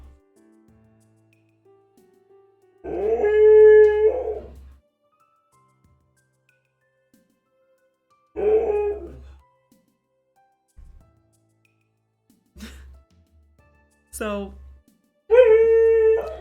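A dog howls and yelps in several separate bursts, some long and drawn out and some short, close by and fairly loud, with quiet gaps between them.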